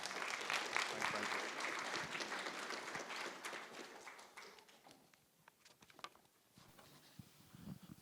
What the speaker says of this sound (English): Round of applause for Vivian, please